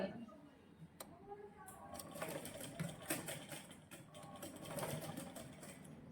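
A sewing machine runs close by, stitching a half-inch seam on a tube blouse with a steady mechanical whir and ticking, while someone talks over it.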